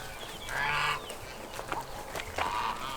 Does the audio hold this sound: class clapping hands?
no